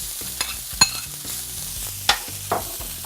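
Chopped green onions and rice being stir-fried, with a spatula scraping the pan in short strokes and a few sharp clinks over a low background sizzle.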